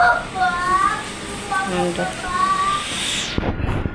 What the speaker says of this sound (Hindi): बारिश हो ही रही है